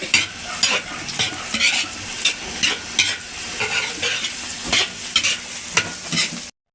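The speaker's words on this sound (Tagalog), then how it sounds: "lalagay ko na yung egg. Haluin lang natin, haluin para hindi magbubuo" An egg is stirred in a hot pan for a beef fried rice dish, with a continuous close sizzle broken by rhythmic scraping strokes of a utensil.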